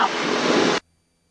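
Carbon Cub FX3 light aircraft engine during a best-angle climb after a power reduction, a steady loud broadband roar filling the cabin for under a second before cutting off abruptly into near silence.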